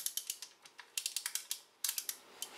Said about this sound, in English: Sides cannon pivot at 360 degrees with a clicking sound.